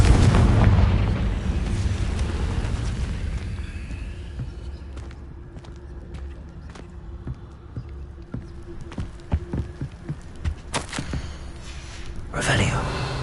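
A heavy Confringo spell explosion in the video game Hogwarts Legacy opens with a loud booming rumble that fades, followed by scattered light clicks and footstep-like taps and a second whooshing burst near the end.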